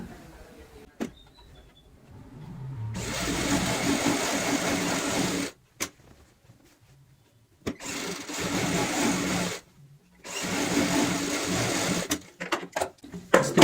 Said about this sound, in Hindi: अब हम इस साइड घुमा लेंगे सिलाई